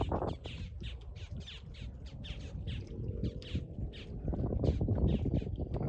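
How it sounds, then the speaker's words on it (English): Blackbirds call repeatedly outdoors by a marsh on a fine day, a rapid series of short, fairly faint squawks over a low background rumble. "Blackbirds."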